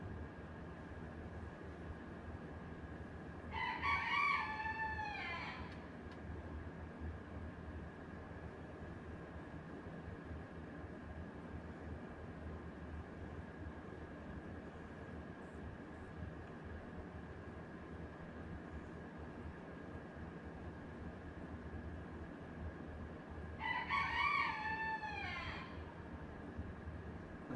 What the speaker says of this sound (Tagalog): Pasensya na kayo sa manok, ha?